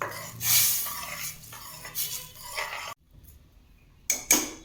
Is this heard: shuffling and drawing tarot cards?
no